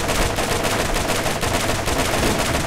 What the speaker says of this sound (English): There's a guy with a shotgun behind me.